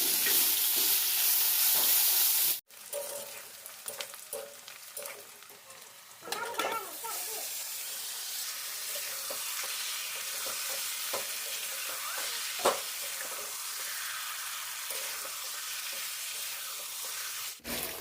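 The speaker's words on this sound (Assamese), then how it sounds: "তিতাকেৰেলা ভাজি" Steady frying sizzle of bitter gourd fills the clip, with occasional stirring clatter and scraping in the pan, fairly close and continuous.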